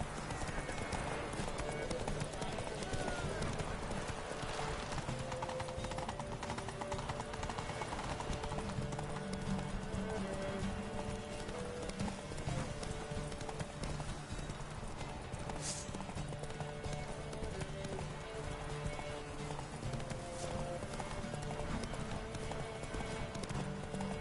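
Racehorses in a Palio-style race video game gallop with a continuous rapid clip-clop of hooves, loud and steady throughout, blended with crowd and game noise and occasional voices.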